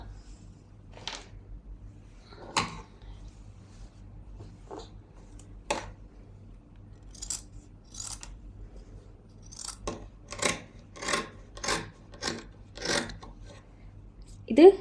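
Scissors cut through fabric for pants along a marked line in sparse single snips that turn into a quicker run of cuts, close but fairly quiet with a soft background hum.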